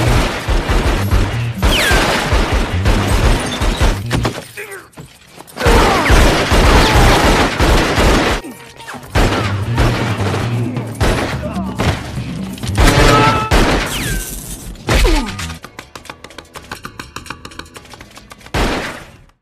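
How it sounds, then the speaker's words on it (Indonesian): A gunfire shootout in an action film about a guitarist battling a gang: loud, dense bursts of shots and booms tumble over one another, with brief lulls and heavy impacts, mixed with film soundtrack. "baku tembak pun tak terhindarkan lagi"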